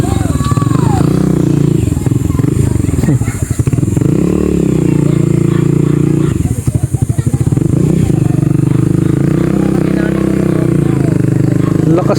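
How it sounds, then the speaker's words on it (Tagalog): Motorcycle engine running steadily close by on a long ride from Mindanao to Daet, with a low droning rumble that dips briefly twice, while people talk over it. "Lakas din ng motor, no?"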